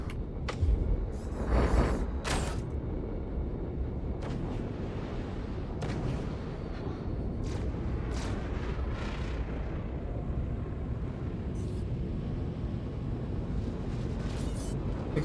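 Ship weapons fire in Star Citizen: heavy booming shots and crackling bursts roll over a constant low rumble, with sharp hits clustered early and scattered later on.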